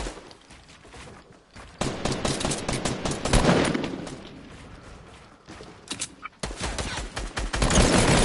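Bursts of video game gunfire aimed at the player crackle in rapid volleys, loud and close, stopping and restarting in uneven bursts with little talk.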